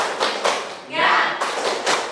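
A classroom of students performs a rhythmic spirit clap during a counseling lesson, a few loud, closely grouped bursts of clapping with voices mixed in between.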